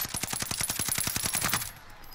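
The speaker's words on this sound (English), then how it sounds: "Who you shooting at?" Automatic gunfire in Call of Duty: Modern Warfare rattles off as a fast, even burst of roughly fifteen loud shots up close, then cuts off abruptly into quieter game ambience.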